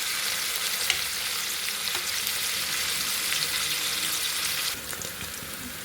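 Onions, ginger, green chilies and curry leaves fry in a pan, giving a steady, bright sizzle with occasional crackles and pops throughout, no voices.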